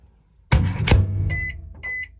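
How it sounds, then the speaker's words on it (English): A microwave oven heating tortillas: the door thuds shut twice, then a steady low hum runs underneath while two bright electronic keypad beeps ring out near the end, all close and fairly loud. "So I'm gonna stick these in the microwave"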